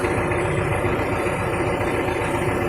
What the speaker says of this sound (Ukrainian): Трактор та й трактор.